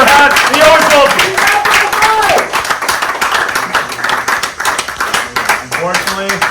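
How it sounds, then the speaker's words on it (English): A loud, steady round of applause with whoops and cheers fills the room for Cody at a fan-made Survivor season finale, dense clapping running the whole time before easing slightly near the end. "Cody, give this guy a round of applause"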